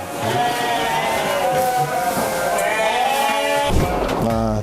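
Sheep or goats, including Garut and local ewes, bleat repeatedly at a livestock farm, loud wavering calls close by that overlap one another.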